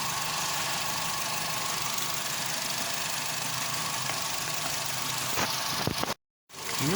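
A 2017 VW Polo Vivo 1.4 engine runs at a steady idle with a continuous dense rumble, broken by a brief dropout near the end.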